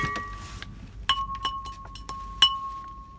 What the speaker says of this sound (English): That's the sound of ironstone.